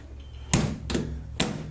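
The door of a 1947 MG TC under restoration being shut and latched, a few dull thumps and a clunk close by, with no talk.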